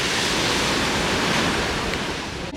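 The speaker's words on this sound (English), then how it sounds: "the waves will wash it up on the beach." Ocean waves wash onto a beach in Peru. The surf roars loud and close, with no break and no voices.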